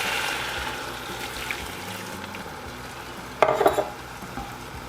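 Cooked rice being gently mixed in a pan over quiet sizzling, low steady background with a short louder scrape of utensil against the pan toward the end, no speech.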